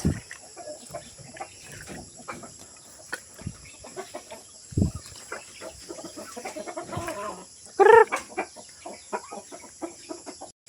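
Scattered hen clucks and short squawks from several chickens, moderately close, with one louder sharp call near the end over faint background hum.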